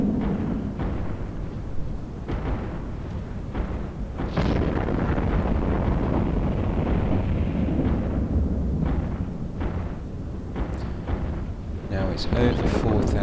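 Ship guns fire in the space game EVE Online, a steady series of deep booming blasts and rumbling impacts under an ongoing roar, loud and continuous, with someone talking over the action.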